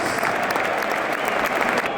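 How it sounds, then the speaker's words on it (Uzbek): Stadium crowd applauding during a football substitution as Rodri leaves the pitch, a steady wash of dense clapping and crowd noise filling the whole stretch, loud and continuous. "Olqishlar bilan albatta"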